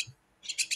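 Pet birds chirping: a few quick, high chirps in a row, close and fairly faint, after a brief low sound.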